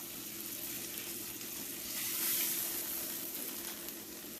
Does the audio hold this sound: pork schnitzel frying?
yes